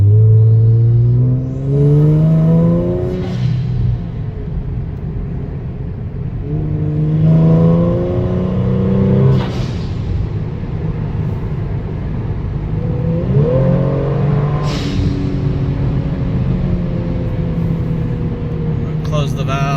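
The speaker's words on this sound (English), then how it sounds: "So I'll give you a sound of what it sounds like when you let off the throttle at a high RPM." A Kia Stinger fitted with Go Fast Bits Mach2 and Deceptor Pro 2 blow-off valves revs up and then vents with sharp whooshing bursts as the throttle lifts at high RPM, repeating several times, with someone talking over it.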